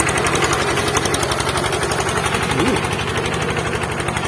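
A loud, steady, rapidly chugging small engine of a modified ride-on tractor plowing through tall grass runs close by without pause, a rough mechanical rattle throughout.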